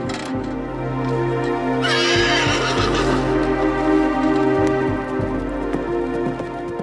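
Armored cavalry horses whinny loudly over a dense bed of hoofbeats and clatter, with a prominent high neigh rising in the middle.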